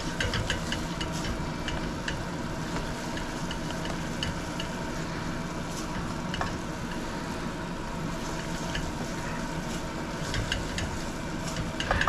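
Paneer bhurji, a scrambled masala Indian cottage cheese, being stirred in a pan, giving a steady close sizzle with scraping and clinking of the spoon throughout, no voices.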